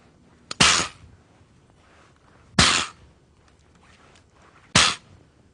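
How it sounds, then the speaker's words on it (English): An Accuracy International precision rifle dropped in a severe bounce test to check its chassis and bedding, with three loud, sharp impacts spaced about two seconds apart, each decaying quickly into near silence. "I'd like to demonstrate what we call the drop test or the bounce test"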